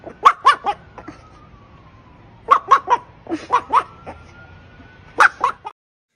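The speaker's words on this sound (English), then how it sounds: "Now the funny thing is that dog's actually a lady." A dog gives a series of short yips and whimpering barks in clustered bursts of three or four, with a faint whine between them, fairly close and without talk.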